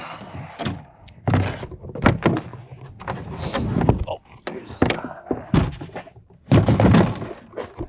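The hood of a 1988 Ford Mustang GT 5.0 is lifted off, giving a series of close hollow metallic thunks and scrapes spread over several seconds, with someone talking between them.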